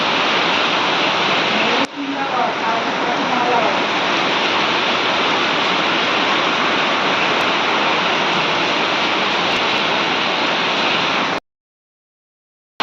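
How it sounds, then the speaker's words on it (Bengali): Heavy monsoon rain pours down outdoors as a loud, unbroken roar of water that fills the whole stretch before cutting off abruptly near the end. "কখন হয়েছে, এবার বৃষ্টি নেমেছে,"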